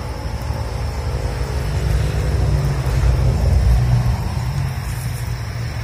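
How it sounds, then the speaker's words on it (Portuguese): Steady low rumble of a water tanker truck's diesel engine idling and running nearby during a water delivery in a neighborhood, continuous and loud with no talking. "o Demai tá fazendo o transporte de água através de caminhão pipa"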